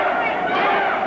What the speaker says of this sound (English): the crowd chanting, "Wimp, wimp."